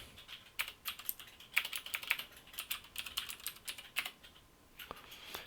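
Quick, light keystrokes on a Mac computer keyboard while entering a command in Terminal, an irregular close patter of clicks with short pauses and no talking.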